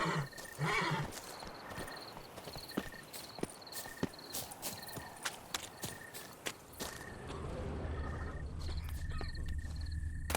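Horse in The Witcher 3: Blood and Wine on Xbox One, giving a brief whinny followed by steady clip-clop hoofbeats and scattered footsteps, all faint beneath a continuous chirp of crickets in a quiet outdoor scene.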